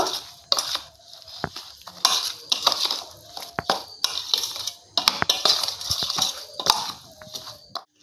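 Raw mango pickle is mixed with Kashmiri chilli powder, giving repeated scraping, clinking stirs of a spoon against a metal bowl in an irregular rhythm, close and fairly clear.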